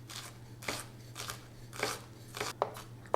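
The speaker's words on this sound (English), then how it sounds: "So both the shallots and the garlic are going to be really finely chopped." A knife finely chopping shallots on a board, a handful of quick, crisp cutting bursts in an uneven rhythm, close and fairly quiet.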